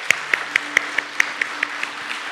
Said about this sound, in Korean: 위로와 격려의 박수를 하겠습니다